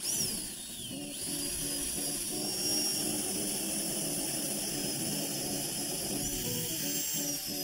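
A continuous high-pitched whine of a power drill spinning a 1.5-inch hole saw, grinding steadily through house siding for several seconds.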